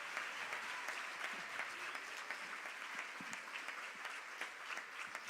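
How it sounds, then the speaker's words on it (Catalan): Audience at a municipal music schools' end-of-year school concert in Maó applauding Mireia, dense continuous clapping from a crowd, fairly faint and distant throughout. "aplaudiment per la Mireia"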